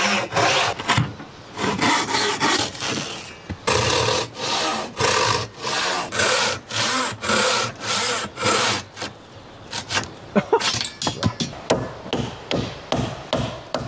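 A very long one-metre saw blade cuts a window opening in wood for a bushcraft survival shelter, giving loud, close rasping back-and-forth strokes in a steady rhythm that turn into shorter, quicker strokes near the end.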